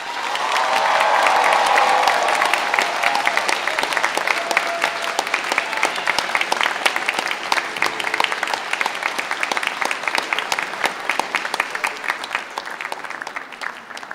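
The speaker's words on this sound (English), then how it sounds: "a round of applause, please." A graduation ceremony audience breaks into sustained applause, a dense wash of clapping that swells early, then settles into steady, slightly thinning clapping for the rest.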